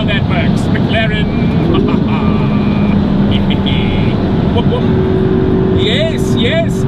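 A McLaren MP4-12C drives with a steady loud engine and road drone, rising whistling tones sliding up at intervals, while a voice talks over it.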